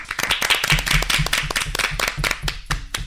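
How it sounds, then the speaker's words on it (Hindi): Clapping to welcome the winner of a children's dream-telling competition in a children's play, a brisk run of close, sharp hand claps from a small group, with some low background sound under it. "सब लोग तालियों से इनका स्वागत करिए"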